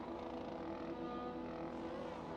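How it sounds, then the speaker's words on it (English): A racing car engine in Project Gotham Racing at the Texas Grand Prix drones steadily before the start, a continuous buzzing tone holding at an even loud level throughout with no speech. "revs are getting higher"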